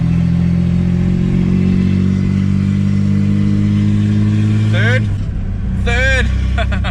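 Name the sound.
Ford AU Falcon drift car engine accelerating through gears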